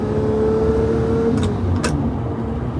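The V12 engine of a Lamborghini Murcielago LP640 drones loudly and steadily from inside the car, a deep sustained engine tone that holds rather than climbing sharply.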